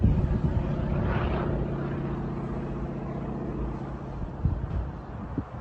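A Yak-52 piston propeller trainer aircraft flies past, a steady droning engine and propeller roar that holds fairly loud and then slowly eases off, with no voices.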